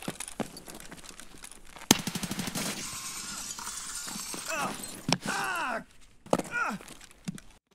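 Gunshots in an Escape from Tarkov fight, a sharp rapid burst of automatic fire followed by scattered single shots and thuds, with frantic talking in between.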